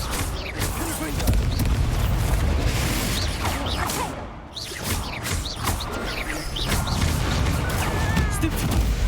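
Spell-blast explosions in the game Hogwarts Legacy crash and boom repeatedly through a busy combat mix, loud and close, with scattered impacts and a brief lull near the middle.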